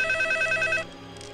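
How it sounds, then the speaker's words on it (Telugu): Telephone ringing in the Telugu film Sree: a bright, rapidly pulsing electronic ring sounds for just under a second, then cuts off, leaving quiet room tone. "ఒకసారి ఫోన్ చేసి కనుక్కుందాం."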